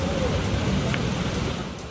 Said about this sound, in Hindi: केरल के वायनाड में एक बार फिर भारी बारिश कहर बरपा रही है